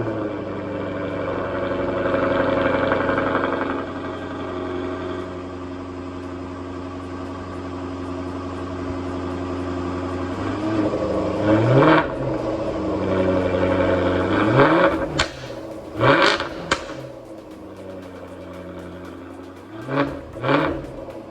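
A Jaguar F-Type R idles with a deep, steady rumble and then gives several sharp throttle blips. Each one swells into a loud, rising roar before dropping back, heard close by with no talking.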